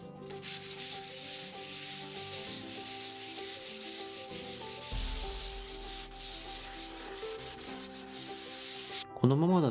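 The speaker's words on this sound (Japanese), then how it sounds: "木材にヤスリをかけていきます。" Sandpaper rubs steadily back and forth over wood, a close, even scratchy hiss that runs continuously, ending in a brief louder scrape.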